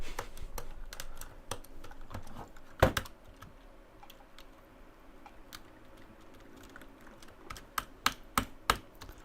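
Keys on a mechanical computer keyboard are pressed and tested close up. Scattered light clicks are broken by one loud clack early on, and a quick cluster of sharper presses comes near the end, with no one speaking.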